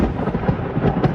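Thunder rumbles deep and loud through a fierce Melbourne storm, with heavy rain roaring steadily underneath and no voices.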